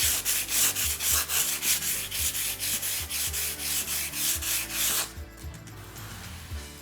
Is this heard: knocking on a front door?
no